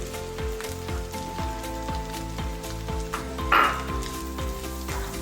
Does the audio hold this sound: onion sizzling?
yes